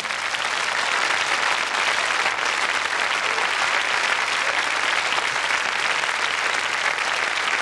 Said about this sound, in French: Je crois que ça s'applaudit.